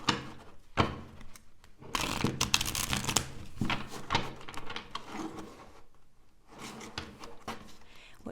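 A tarot card deck is shuffled by hand, with bursts of rapid riffling and slapping card sounds separated by brief pauses and softer rubbing, close and fairly quiet, with no speech.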